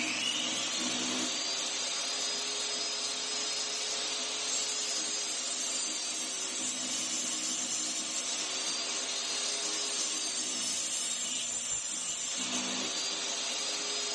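A power saw cuts 1x4 boards to width for a loft bed built from IKEA kitchen cabinets, a loud steady whine running for the whole stretch with slight dips in pitch as the blade loads.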